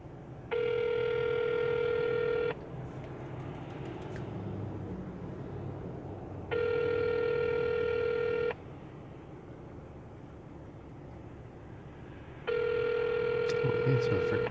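A telephone rings three times, each electronic trill lasting about two seconds with long gaps between, over low background noise and some faint talk.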